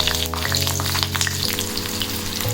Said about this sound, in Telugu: ఆయిల్ హీట్ అయ్యాక 5 పచ్చిమిరపకాయలని మధ్యకి చీల్చుకొని ఆయిల్లో వేసుకోవాలి.